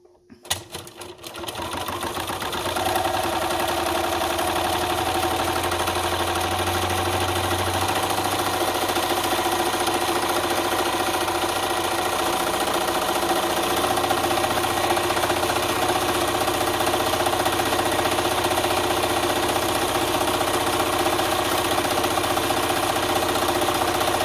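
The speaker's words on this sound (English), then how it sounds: "So now I'm just going to sew down the other edge at 1/8 of an inch as well." Sewing machine running steadily and continuously, stitching down the edge of a vinyl bag strap, with a close, even motor hum and rapid needle rhythm that starts after a brief moment of handling.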